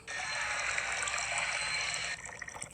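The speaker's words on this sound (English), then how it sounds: "Let's add a little bit of water." Water being added in the video game Toca Kitchen 2, a continuous bright pouring or running-water sound lasting about two seconds, then shifting to lighter trickling splashes before ending.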